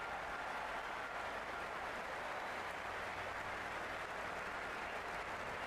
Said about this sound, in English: Will you listen to that crowd?